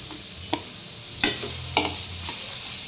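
Chopped cabbage, capsicum, carrot and tomato are stirred in a pan, with a steady soft sizzle broken by a few sharp spatula scrapes and knocks against the metal.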